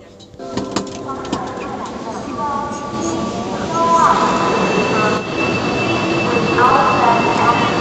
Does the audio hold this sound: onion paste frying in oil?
no